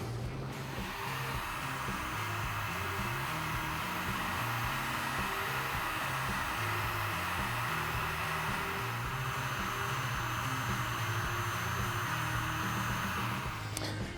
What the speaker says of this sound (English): we're going to take the heat gun and heat shrink this around it